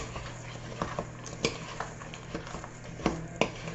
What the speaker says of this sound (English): Then I'm just going to stir these together.